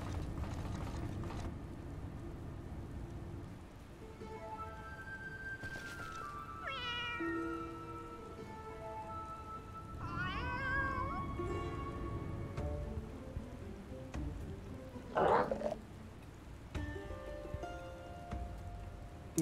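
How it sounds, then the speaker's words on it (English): A cat in the video game Final Fantasy XIV meows several times, with rising and falling calls spread across the stretch over a steady patter like rain, and one sharper yowl near the end. "Evil, evil cat."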